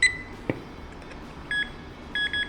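A Nokta Pointer metal detector gives short electronic warning beeps as it switches mode, a brief click followed by a few clear, high tones in quick bursts, close and moderately loud in a quiet room.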